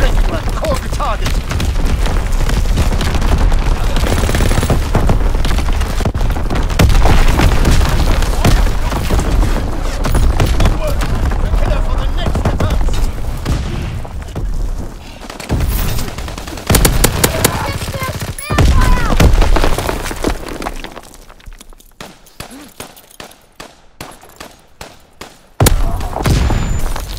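Artillery barrage and dense gunfire in the World War II shooter Call of Duty: WWII, loud continuous machine-gun bursts and heavy booms rolling for most of the stretch, thinning into sparse shots near the end.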